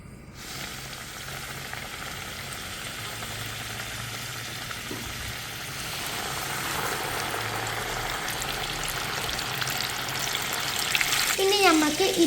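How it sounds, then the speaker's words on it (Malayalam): Coated broasted chicken pieces frying in hot oil, a steady close sizzle that grows denser and louder over time, with a light clink near the end. "ഇനി നമുക്ക് ഇതൊക്കെ ഫ്രൈ ചെയ്തെടുക്കാം"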